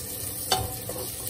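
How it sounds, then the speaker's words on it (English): Prawns frying in a hot pan for sambal prawn noodles, a steady close sizzle with a single brief scrape of stirring partway through and no talking. "Just give it a little bit of a stir."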